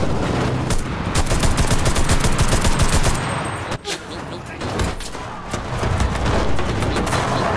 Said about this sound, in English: Oh, we got a submachine gun. Fuck yeah, let's roll.